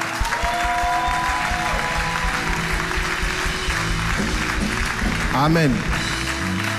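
A church congregation applauds and cheers in praise during a French-language worship service, steady clapping filling the room while a preacher's voice speaks over it.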